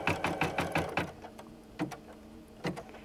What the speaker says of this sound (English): lower the presser foot and keep my hands out of the way from the foot and the needle and just let it stitch this next